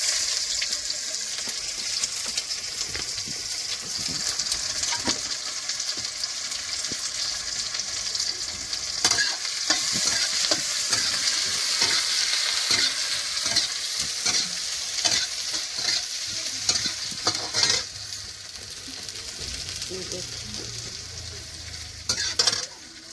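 Snails frying with dried chilies, cumin, bay leaf and onion give a steady loud sizzle and crackle, with occasional stirring scrapes in the pan throughout, and no voices.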